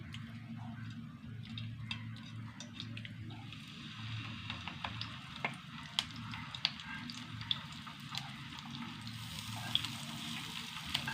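Fish frying in coconut oil: soft, steady sizzle with scattered crackles and pops, fairly quiet and close, no voices.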